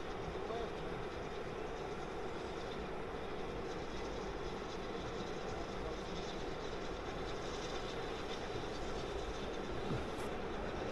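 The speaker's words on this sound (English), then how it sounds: "Great to see the steam trains." A steam train passes at a distance with a steady, low rumble and rolling rail noise that holds for the whole stretch. It sounds faint and distant outdoors near a riverside wild campsite.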